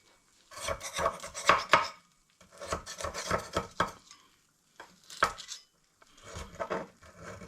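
A knife scrapes and taps around lasagne muffins in a metal muffin tin, loosening them in four separate bursts of close scratchy clatter with short pauses between, no talk.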